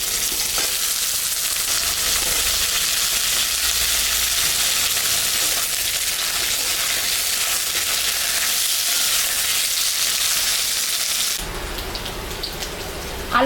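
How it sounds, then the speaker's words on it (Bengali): Potato pieces fry loudly in hot spiced oil with onions in a home kitchen, a thick, constant crackling sizzle with stirring, which cuts to a quieter hiss near the end. "কয়েকটা আলু আমি দিব, একটু ভাজা ভাজা করে দিই"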